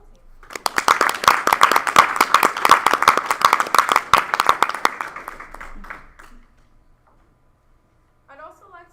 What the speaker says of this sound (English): Let's give a round of applause for our Chaco drill team.